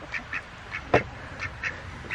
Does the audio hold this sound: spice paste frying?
no